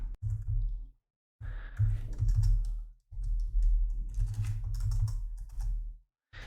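Bursts of keyboard typing as Django code is entered, clattering keystrokes in three dense runs separated by short pauses, close and fairly loud, no voices.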